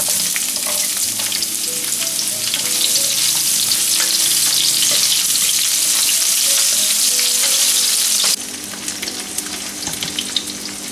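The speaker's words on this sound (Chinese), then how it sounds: "借锅里的底油煸一下洋葱" Onions stir-fried in leftover oil in a wok while cooking pork liver: a loud, steady sizzle runs throughout with scraping stir noises, dropping a little in level near the end.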